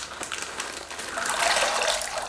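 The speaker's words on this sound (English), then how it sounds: "I'm going to be pouring in my white chocolate" White chocolate sauce poured into a peppermint white chocolate mocha latte, a steady close liquid stream that thickens and grows louder toward the end, with no talk.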